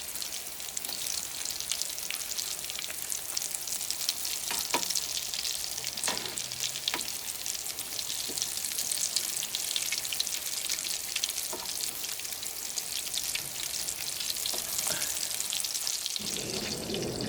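Coddies, Baltimore-style codfish cakes, deep-fry in an electric fryer with an unevenly heating coil, producing a steady, dense sizzle and crackle for the whole stretch with no talking.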